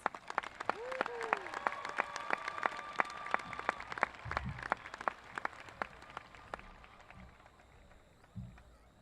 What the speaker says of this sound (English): Please give these distinguished and hardworking students one last round of applause.